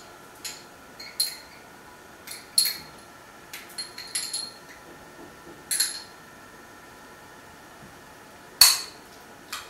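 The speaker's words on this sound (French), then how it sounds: "On mélange la crème avec la ciboulette" A spoon clinks and scrapes against a bowl while cream is stirred together with chopped chives, giving a string of light, sharp taps at irregular intervals over a quiet room.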